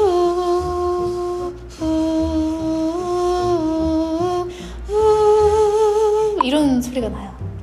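A voice imitates the daegeum, a Korean bamboo flute, in clear, sustained, flute-like notes. Several long held phrases carry gentle pitch steps and end in a quick wavering slide.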